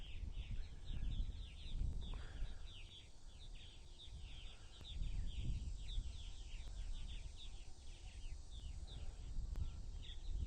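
Purple martins chirp in quick, overlapping calls on a Saturday evening on eastern Long Island, New York, with bass-heavy music from a neighborhood party thumping underneath.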